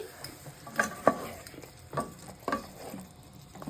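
Onion and green chili fry in a pan while being stirred for a Pakistani chicken dish. Soft, irregular spatula scrapes and taps sit over a quiet, steady sizzle.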